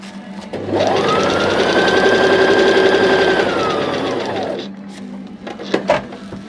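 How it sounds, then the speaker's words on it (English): A sewing machine stitches fabric for a hair scrunchie, a loud close mechanical whir running steadily for about four seconds before stopping, followed by a few small clicks. "Go back and then you carry on stitching until you get stuck."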